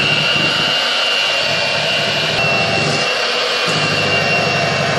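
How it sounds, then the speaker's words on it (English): An electric hand mixer beating red velvet cupcake batter runs as a loud, steady high whine throughout, close and continuous, with a faint rhythmic churning underneath as the beaters work the bowl. "I'm going to use an electric hand mixer."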